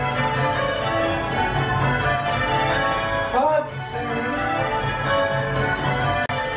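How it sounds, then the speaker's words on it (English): Smith College bells, cast in 1967, sounding in change ringing: a dense, continuous wash of overlapping tower-bell tones with steady rhythmic strikes throughout, moderately loud and without voices. "Note the difference between the sound of these bells and the older bells you heard earlier."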